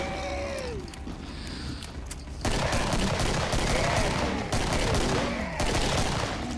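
Loud, dense gunfire from the Killing Floor video game, with rapid overlapping shots and bursts that grow heavier partway through and continue without pause.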